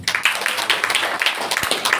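A church congregation at a Sunday worship service claps hands together, a lively, fairly close patter of many palms with faint rhythmic accents and little talk.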